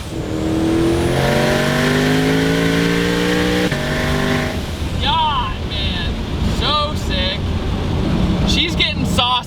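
A 1200 HP twin turbo Shelby GT500 revving outdoors among trees, its engine note climbing through rising pitch sweeps with wind buffeting, followed by sharp bursts and chirps as the car drives on.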